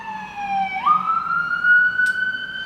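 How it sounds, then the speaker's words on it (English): An ambulance siren wails on a street near main hospitals, a loud rising tone that sweeps upward and holds, close by and alone with no speech. "All right, that's an ambulance, by the way."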